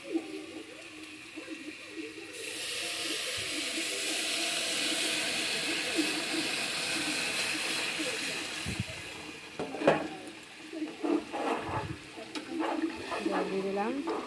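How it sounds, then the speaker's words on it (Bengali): Water poured into a pot of dalia khichuri makes a broad rushing hiss that swells and holds for several seconds, followed by clinks of a utensil, with a voice talking over the end. "এবার জল দিয়ে দেবো।"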